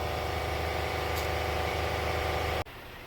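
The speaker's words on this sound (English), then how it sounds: "And as I let the compressor shut off" A steady, loud mechanical drone of an air compressor running close by in a garage, humming evenly before cutting off abruptly near the end, leaving a quiet tail.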